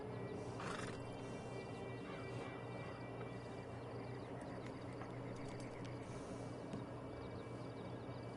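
A horse in the Western video game Red Dead Redemption 2 gives a neigh early on, with hoof and harness sounds over a continuous outdoor game ambience and no speech.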